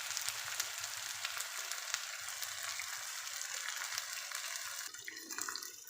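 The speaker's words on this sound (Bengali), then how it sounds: "কিছুটা রসুন কুচি দিয়ে দিচ্ছি" Chopped garlic frying in a pan gives a steady, close sizzle with bright crackling hiss throughout, briefly shifting near the end.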